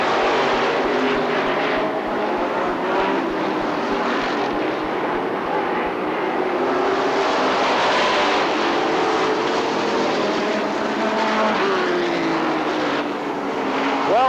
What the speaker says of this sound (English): Papini, making his way down the backstretch.